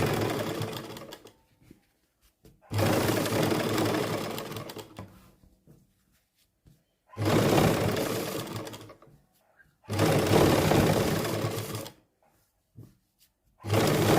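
Sewing machine stitching buckram onto a salwar hem: four loud, steady runs of motor whir and needle chatter, each a few seconds long, separated by quiet pauses.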